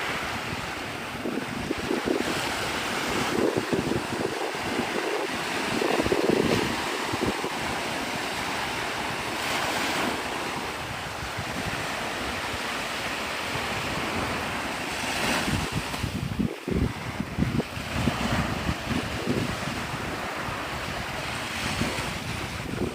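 Ocean waves rolling onto Navarre Beach, Florida at sunrise, a broad continuous wash of surf with wind buffeting the microphone and occasional thumps.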